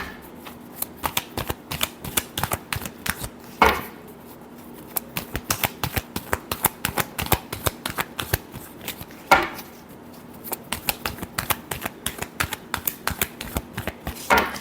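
Tarot cards are shuffled by hand in rapid crisp riffles and snaps, repeated through several rounds with brief louder bridging slaps, close and clear.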